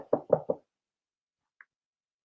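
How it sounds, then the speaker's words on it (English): Three quick knocks on wood, done for luck, sound in a close, fairly quiet rhythmic burst, followed by a faint tap and then silence. "I'm gonna knock on wood."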